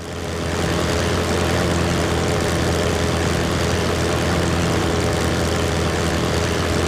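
A propeller aircraft engine in a flight simulator game drones loudly and continuously, a steady low mechanical roar without any talking.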